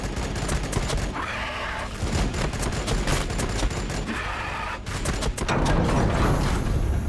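Rapid gunfire fills a battle in the video game Battlesector, dense bursts and repeated loud shots layered with booms, continuous and close throughout, no talk.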